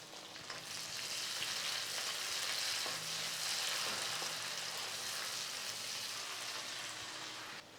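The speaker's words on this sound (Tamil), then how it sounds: "நல்லா ஒரு ரெண்டு நிமிஷத்துக்கு இந்த வெங்காயத்தை வதக்கி விடுங்க அப்படியே கொஞ்சம் கிளறி விட்டுக்கிட்டே இருங்க" Onions and tomato sauté in a hot pan for chicken thokku biryani, a steady close sizzle and crackle with occasional scraping from stirring, and no talk.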